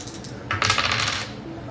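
Dice rolled during a reading, a quick burst of clattering rattles that tumble and settle within about a second against a quiet background.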